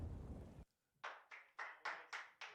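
A coach at a Counter-Strike esports match at IEM Katowice claps six sharp, evenly spaced times, close and alone after a burst of noise.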